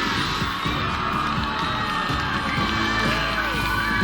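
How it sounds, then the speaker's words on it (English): A large crowd cheers and screams loudly and continuously at an obstacle-course competition, a dense wall of shouting and whooping with children's voices mixed in. "it's like we can hear all of Utah screaming from here"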